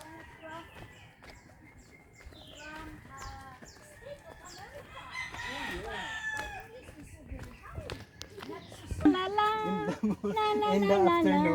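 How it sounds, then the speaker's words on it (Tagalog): A rooster crows near a mountain trail, its harmonic calls rising loud and close toward the end over a background of voices. "Wala ka marinig kung hindi tilaok ng manok."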